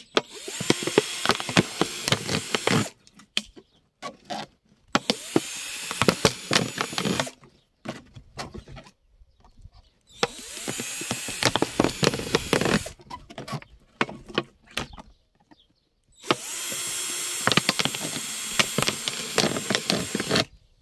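Power drill boring holes around a plastic bottle, heard as four separate bursts of whirring drilling a few seconds each, separated by quiet pauses, close and moderately loud.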